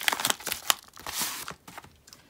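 Crinkling and tearing of a trade letter thickly padded with bubble wrap and covered in stickers as it is opened, with brisk crackly bursts and rustles close up, no talk.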